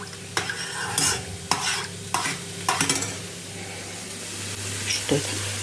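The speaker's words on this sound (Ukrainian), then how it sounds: "Все добре змішаю, сіль, спеції, все сюди" A spoon stirs stuffing with sour cream, tomato paste, water, salt and spices in a bowl, giving several distinct scraping strokes with pauses between them, close and fairly loud, with no talk.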